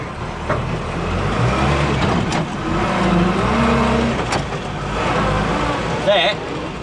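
A Land Rover Series 3 in low range with its front axle disconnected tows a 3-ton load across a hard surface, its engine droning and straining steadily at close range while someone talks over it.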